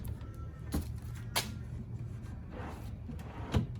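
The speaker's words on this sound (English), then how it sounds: "So I'll pull the drawer runners out." Metal drawer runners are pulled from a drawer in a Mitsubishi Express short-wheelbase van camper build, giving a few sharp sliding clacks and knocks spaced apart over steady low background hum.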